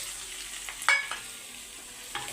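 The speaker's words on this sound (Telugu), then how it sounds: "దీన్ని కొంచెం కలర్ వచ్చే వరకు వేయించేసుకుందామండి" Ingredients for drumstick rasam fry in a pan on a low flame, a quiet continuous sizzle with a single sharp clink of a spoon against the pan and a few faint scraping touches.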